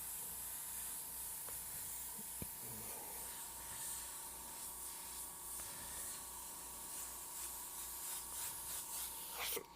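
A compressor-driven spray gun sends out a steady hissing spray of paint, running continuously and close by with a few small clicks and knocks, and no one speaks.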